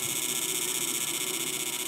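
A fish inverter machine powering four tubes, with its timer turned to full, gives off a continuous, even electronic buzz with a faint pulsing texture, steady and close.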